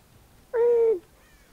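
A single crow caws once in the Dead by Daylight video game, a short, loud, harsh call standing alone over quiet background.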